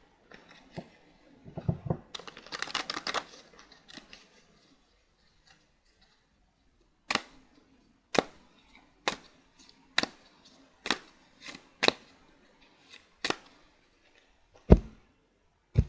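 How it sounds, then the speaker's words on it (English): Tarot cards being shuffled: a run of sharp, separate card snaps and flutters, roughly one per second, with softer rustling earlier on. Close and fairly quiet, with no talking. "but I'll shuffle them again."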